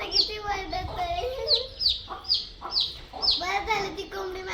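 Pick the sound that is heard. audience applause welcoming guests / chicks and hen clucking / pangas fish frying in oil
chicks and hen clucking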